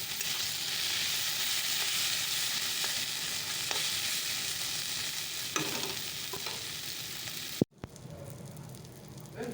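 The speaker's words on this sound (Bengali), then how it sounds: "একটু আলু করলা ভাজি বসিয়ে দিলাম আলু আর করলা ভাজি করে নিচ্ছি" Potato and bitter gourd fry in a pan with a steady close sizzle, broken by a few soft clinks of stirring, before the sound cuts off briefly near the end and resumes more quietly.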